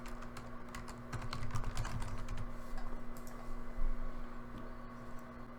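A password is typed on a computer keyboard during a sign-in, a steady run of quick, close plastic key clicks with no talking.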